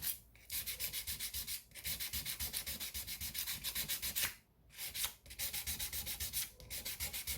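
Up close, 220 grit sandpaper rubs back and forth across stainless steel frets on a Gretsch guitar in quick rhythmic strokes, pausing briefly a few times. No one speaks.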